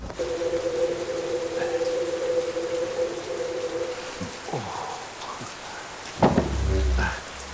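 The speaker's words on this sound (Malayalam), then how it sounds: "നല്ല മഴ പേടിപ്പിച്ചോളൂ." Steady rain falls in a film scene at night, a constant hiss with a sustained tone early on, then faint thuds and a short rumbling knock near the end.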